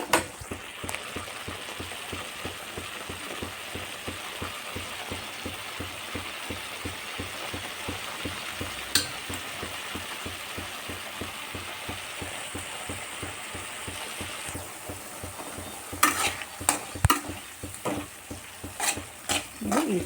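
Okra frying in tomato paste in a pan sizzles softly while a utensil scrapes and stirs in a fast, steady rhythm, with a few sharper clatters near the end.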